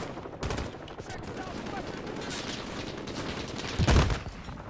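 Pistol shots ring out in Modern Warfare, a few sharp cracks spread across several seconds, the loudest near the end, over a steady background of game ambience.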